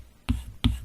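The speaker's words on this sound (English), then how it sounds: "So if I write on it with the Apple Pencil, just write Zollotech here, it feels like paper and sounds like paper." Apple Pencil tip scratching across a matte Paperlike screen protector on an iPad Pro, two quick papery strokes close up, each a brief rasping scribble with a short pause between.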